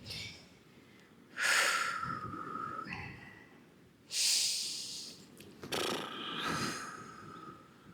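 Deep breathing during an evening yoga stretch: three long, close breaths, each a rising airy hiss that slowly fades, with quiet pauses between them.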